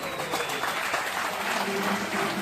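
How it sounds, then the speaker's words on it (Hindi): Applause from an audience at a corporate achievers' event, a brief, even burst of clapping lasting a couple of seconds. "जोरदार तालियां हो जाए आप सबकी।"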